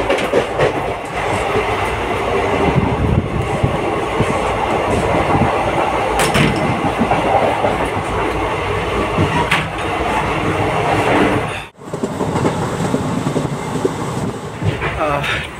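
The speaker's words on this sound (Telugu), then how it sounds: "ట్రైన్స్ బాగుంటుంది కానీ ఈ సౌండ్స్ మటుకి హారర్ సినిమాలో సౌండ్స్ చాలా దారుణంగా ఉన్నాయి." A train runs on rails at night on a Hyderabad to Chennai journey, a loud steady rumble with rhythmic clickety-clack of wheels over rail joints throughout, with a brief dip near the end.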